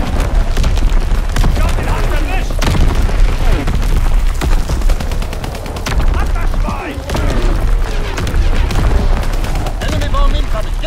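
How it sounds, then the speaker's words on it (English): Enemy artillery and gunfire in Call of Duty: WWII, with loud booming blasts and dense rattling volleys crowding together nonstop, heavy and close throughout. "Incoming enemy artillery! Get to cover!"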